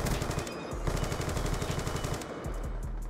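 Rapid automatic gunfire rattles in Black Ops 2, a fast continuous burst of shots that stops briefly and then resumes, fairly loud with no talk over it.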